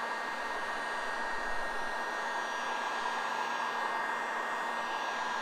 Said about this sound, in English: So I just got my heat gun on high.